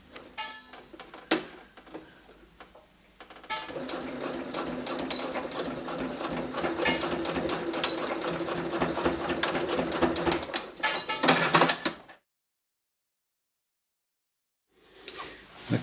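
A sewing machine runs in a steady rapid stitching burst for several seconds, then back tacks in a shorter burst while finishing a trouser waistband, with a few clicks before and a silent pause after.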